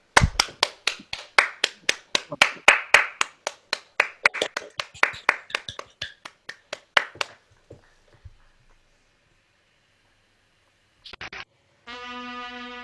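A small group claps their hands in a quick, steady run of sharp claps for about seven seconds, then stops. After a silence, a short electronic tone follows.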